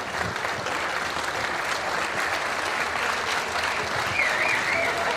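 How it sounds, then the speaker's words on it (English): Sustained applause from an arm-wrestling crowd on its feet for John Brzenk after a defeat, dense and steady throughout, loud and continuous with a general crowd roar beneath. "the crowd it's on its feet and all applauding John Brzenk"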